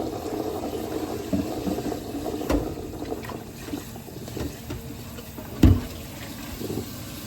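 Hot tap water running steadily into a pot for macaroni in a home kitchen, a continuous close splashing flow with a few clanks of the pot, no one talking.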